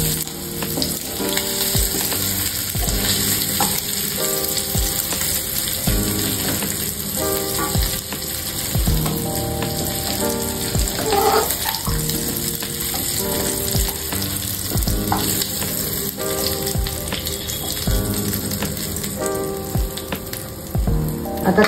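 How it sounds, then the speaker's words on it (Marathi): Prawns fry in hot oil with a steady, close crackling sizzle that keeps going throughout, with occasional stirring clatter and no talking. "छान अशी आपली कोळंबी फ्राय झालेली आहे"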